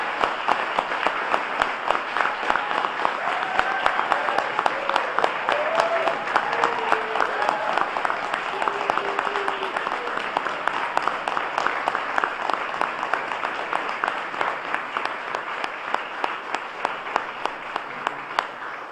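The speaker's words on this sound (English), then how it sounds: "Round of applause" A large audience at a police department swearing-in ceremony in Erie breaks into sustained, dense applause that carries steadily for nearly twenty seconds, with faint voices mixed into the crowd.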